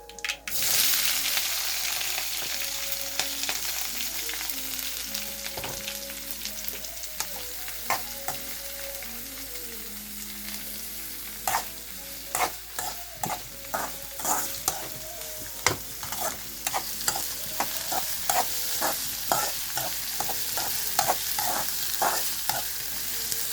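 Onions sautéing in a pan with curry leaves, a steady frying hiss broken by repeated sharp spatula scrapes and taps that grow more frequent toward the end, close and fairly loud.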